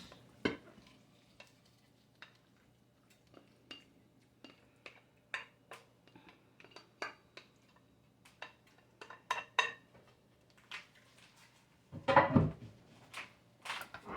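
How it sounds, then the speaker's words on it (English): Spoon clinks and scrapes against a baking dish as cooked Cajun chicken Alfredo noodles are moved over, in scattered soft knocks that build to a louder, busier clatter near the end. "what we're going to do is transfer this to our baking dish"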